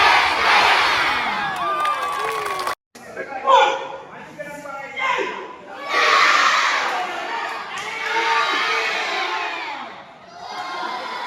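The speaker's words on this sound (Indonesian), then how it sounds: "Berikan aplaus." A crowd at an Indonesian karate federation event cheers and shouts loudly, with whoops and a brief gap, continuing in sustained waves of voices.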